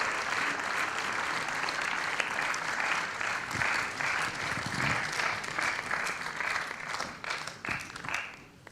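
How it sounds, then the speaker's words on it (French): Sustained audience applause fills a French film premiere screening room as a guest arrives on stage, dense steady clapping with a few louder individual claps, no voices over it. "On peut l'applaudir."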